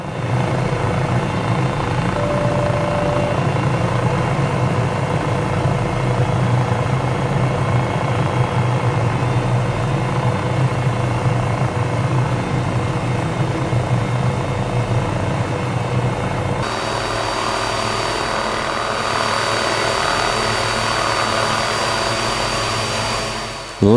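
A simulated Cowansim 500E helicopter in Microsoft Flight Simulator drones with a steady turbine whine and rotor thrum, then its tone shifts partway through and holds constant until the end.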